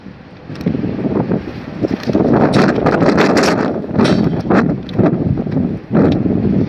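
East wind blowing in gusty rushes, loud and close, buffeting the microphone with rumbling surges rising and falling, no voices.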